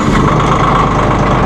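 Massey Ferguson 1700 M series compact tractor diesel engine running close by, a loud, steady idle rumble that holds throughout with no pauses.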